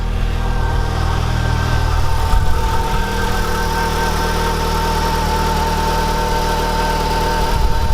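Turbocharged Renault Clio 172 Cup engine running at a steady, loud idle up close, a throbbing low hum with a brief rev-like swell partway through and no speech.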